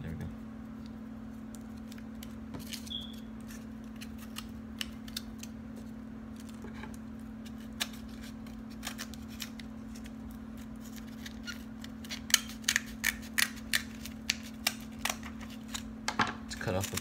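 Scissors snipping cardboard while making a lightsaber belt clip, quiet scattered clicks at first, then a run of sharper, evenly spaced cuts near the end over a steady low hum.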